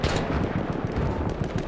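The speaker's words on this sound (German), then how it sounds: "Das ist ein MG, ich dachte, das wäre so eine Kanone." Machine gun firing in Battlefield 1 during a Conquest match: a continuous, loud, rapid stream of gunshots with dense, rattling bursts throughout, close and dominant.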